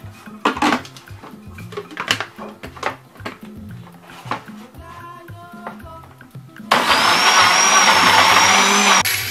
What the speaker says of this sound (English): I'm going to blend this in a blender to season up my goat meat